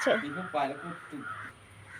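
Crows caw noisily and close by around a basket of chickens, several harsh calls in quick succession, with a voice talking over them.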